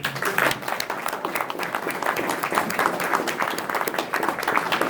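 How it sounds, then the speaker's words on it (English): Dense, steady applause fills the room as a presentation audience claps for former Milwaukee Road workers. The sound is continuous and even throughout. "I'm going to clap for you."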